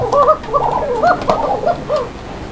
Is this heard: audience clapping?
no